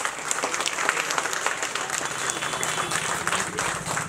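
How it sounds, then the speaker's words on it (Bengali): An audience at a Buddhist community gathering claps steadily, a dense sustained round of applause from many hands, fairly even in loudness throughout with no voices standing out. "ববিদার জন্য একটা জোরে জোরে হাততালি দিন আগে"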